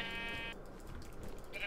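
A Minecraft sheep gives a short, nasal in-game bleat, fairly faint, with a second bleat starting at the very end over quiet game background.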